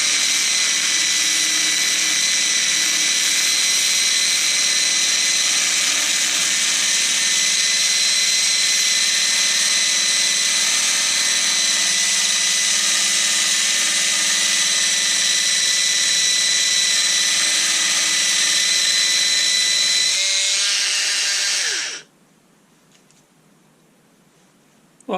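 A Proxxon belt sander converted to run on 12V DC grinds solid steel, a loud, steady high-pitched whine with abrasive hiss for about twenty seconds before the motor cuts off abruptly into near silence.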